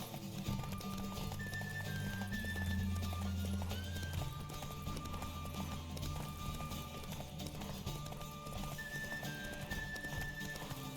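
Horse galloping in a race in The Witcher 3, with rapid rhythmic clip-clop hoofbeats running steadily throughout and occasional whinny-like tones over game background sound.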